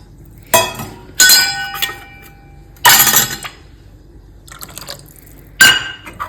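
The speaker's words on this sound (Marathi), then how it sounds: "त्याला त्याच्यात थोडंसं पाणी मिक्स करते" Water splashes and a utensil clinks against a container of drumstick soup in five sharp, separate bursts, with quiet pauses between them.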